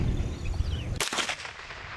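A single sharp shot from a CBC 7022 semi-automatic .22 LR rifle cracks out about halfway through, loud and close, fading quickly into open-air ambience.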